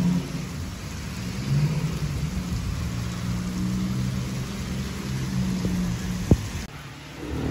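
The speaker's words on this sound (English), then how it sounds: "With like high winds, heavy rain, like probably like some frequent lightning and everything." A severe thunderstorm at Cedar Point in Sandusky, Ohio brings a steady roar of heavy rain and wind, with low thunder rumbling beneath it and one sharp crack near the end.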